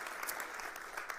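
A church congregation applauds in a brief burst of soft, dense clapping that sounds distant and faint, with no distinct cheering voices.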